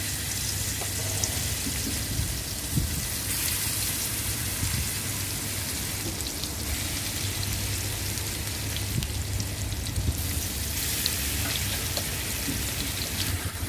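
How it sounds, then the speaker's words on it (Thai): Thai chili paste being stir-fried with pork in a pan, a continuous dense sizzle and crackle like steady rain, with occasional scraping stirs, close and even throughout. "ต่อไปเราก็จะนำน้ำพริกของเราเนี่ยมาผัดนะคะ ใส่ลงไปเลยค่ะ"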